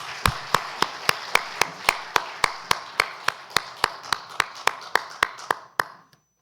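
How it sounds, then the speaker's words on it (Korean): A church congregation at a Sunday worship service claps together in slow, steady unison, about eighteen crisp, evenly spaced claps that ring in the hall and then stop abruptly. "하나님께 영광의 박수 올려드립니다."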